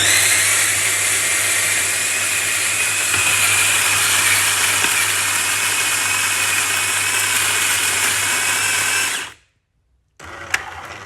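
A JURA C60 automatic coffee machine grinds while making an espresso, a loud, steady whirring grind that runs for about nine seconds, cuts off abruptly, then gives a single brief click.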